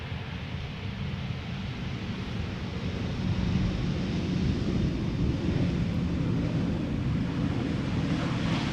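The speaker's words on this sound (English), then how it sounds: "You're always exposed to the wind over here." Steady wind buffets an exposed outdoor spotting spot beside Amsterdam Schiphol Airport, a constant broadband rush that swells slightly louder midway and continues without pause, with no voices.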